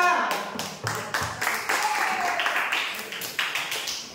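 A classroom group claps hands together after a student presentation, the applause ragged and close, starting loud and tapering into scattered claps.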